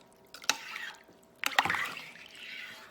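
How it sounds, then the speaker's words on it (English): Milk is poured freely into a crock pot while making potato soup, with two splashy bursts followed by a soft trickling and gurgle, quiet and close. "Free pouring milk."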